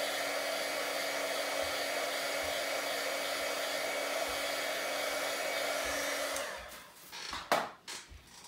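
A heat tool blows steadily to dry oxide ink on a paper background, a constant loud whirring roar that cuts off abruptly near the end, followed by a few handling clicks.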